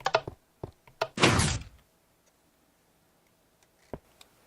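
Automated doors in a video game castle open with a few sharp clicks and thunks, then a loud sliding whoosh, followed by quiet and a couple of later isolated clicks.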